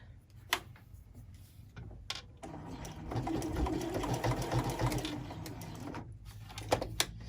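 A sewing machine stitches a fabric chain garland, starting with a few clicks and then running in a steady rapid mechanical whir for several seconds before stopping near a corner pivot, close and alone.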